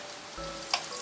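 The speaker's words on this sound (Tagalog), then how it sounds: "idagdag at i-saute natin yung ating ginger" Ginger sautéing in a hot pan, a soft steady sizzle with a light stirring scrape, quiet and close, no voices.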